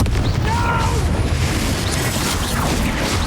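Confringo spell explosion in Hogwarts Legacy played on Nintendo Switch, a loud, dense booming burst with rumbling low end and crackling debris, continuous and close throughout the short stretch.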